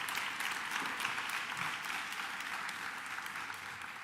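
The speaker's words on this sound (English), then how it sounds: "please give that a round of applause" At a New York education event with Governor Kathy Hochul, the crowd breaks into sustained, dense applause, a broad wash of many hands clapping at an even level with no voices standing out.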